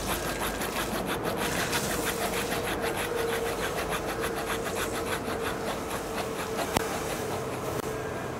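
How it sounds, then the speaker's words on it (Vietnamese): A small hand saw rasps steadily through the wood of a mini bonsai tree in quick, continuous back-and-forth strokes, close and loud, with no pauses. "Từ khi sử dụng cái cưa con này thì đúng là thấy nó cực kỳ là hiệu quả,"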